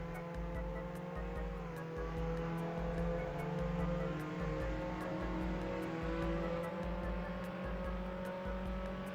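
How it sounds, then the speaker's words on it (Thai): A car in Roblox Jailbreak holds a steady high-speed engine drone, with a pulsing low rumble and a rhythmic ticking on top, even and continuous, with no voices. "เดี๋ยวมาทดสอบความเร็วของรถคันนี้กันนะผมว่ามันเร็วแค่ไหนนะ"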